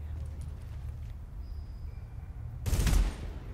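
Gunfire in Tom Clancy's The Division, a short loud burst near the end following a stretch of quieter background ambience.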